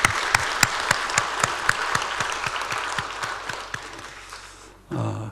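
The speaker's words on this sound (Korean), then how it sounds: "우리 하나님께 박수하겠습니다." A church congregation gives applause of praise during a Sunday service, a burst of rhythmic, fairly loud clapping that fades out gradually before a sudden swell of other sound at the end.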